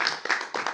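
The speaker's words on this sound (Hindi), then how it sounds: "वाह, तालियां हो जाएं एक बार।" An audience at a festive evening gathering in Aligarh claps in a brief burst of applause, close and moderately loud, with uneven overlapping hand claps.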